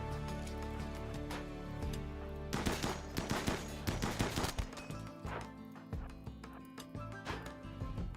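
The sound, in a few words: gunfire in the video game Water World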